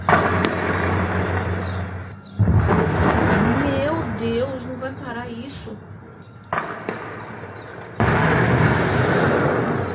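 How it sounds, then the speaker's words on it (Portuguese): Blasts from a nighttime bank robbery boom out, with several loud, abrupt explosions at intervals between stretches of distant rumbling, and a distressed voice speaks between them. "5 minutos que estão explodindo os bancos"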